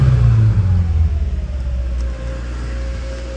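A 2011 Subaru Forester with a 2.5-liter engine and automatic transmission revs up and settles back, a loud, close, steady engine rumble with a pulsing drone and no talking.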